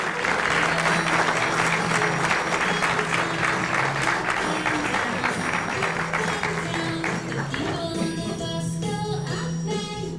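Loud, dense applause from a school back-to-school kickoff audience welcoming returning students, sustained clapping that thins slightly toward the end as some cheering and tinkling sounds mix in.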